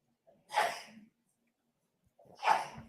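Two sneezes about two seconds apart, each a sharp, breathy burst with a quick intake before it, fairly close and otherwise quiet.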